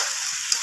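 Chicken and previously fried potatoes sauté in a pan with salt, giving a steady, close hiss of frying oil with no talking.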